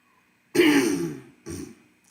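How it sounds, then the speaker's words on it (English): Two harsh coughs close to the microphone, the first long and rough, the second shorter, with a brief start of another at the end. "sorry for coughing"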